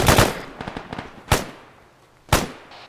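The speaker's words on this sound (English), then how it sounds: "Bandit is taking heavy suppressive fire" Heavy suppressive gunfire in the military shooter Arma 3, a close burst of rapid rifle shots followed by two louder, separate cracks, with no talk over it.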